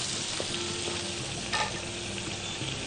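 Garlic sizzles with cubes of butter in a pan, a steady broadband frying hiss with a small stir or clink partway through, close and continuous with no talk.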